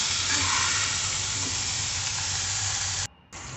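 Salted vegetable curry sizzles steadily in a hot pan while being stirred and mixed, a close, continuous frying hiss that cuts off briefly near the end.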